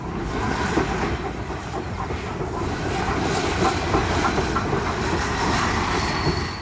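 A train runs on the Cheltenham to Kingham cross-country branch line near Cheltenham South and Leckhampton in 1962, a steady close rumble with faint rhythmic wheel clatter and a light hiss throughout.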